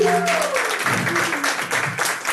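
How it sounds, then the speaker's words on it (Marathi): Applause at a birthday party for Sonia, brief crowd clapping heard for a couple of seconds as a voice trails off at the start. "एकदम जोरदार टाळ्या सोन्यासाठी."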